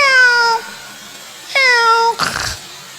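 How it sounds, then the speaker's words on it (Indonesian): Two drawn-out, clear cat meows about a second apart, close and loud, followed by a short rustling noise. "Itu suara kucing."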